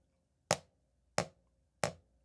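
Three crisp, evenly spaced drumstick strokes on a practice pad, each a sharp close tap with a short decay, heard alone with no talking.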